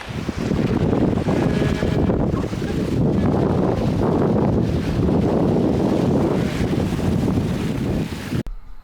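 Strong wind buffets a boat at sea, roaring loud and close against the microphone almost the whole time before cutting off abruptly near the end.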